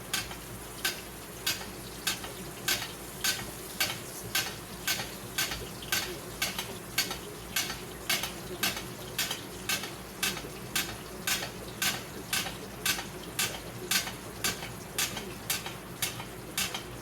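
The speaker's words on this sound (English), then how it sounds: "you move the steak at the far end of the pan and you start basting it with the fat" A steak sizzles in a pan as it is basted with melted butter and beef tallow, with a steady frying hiss and regular spoon scrapes and splashes repeating about once a second, close and fairly loud.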